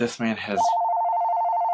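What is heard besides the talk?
telephone ringing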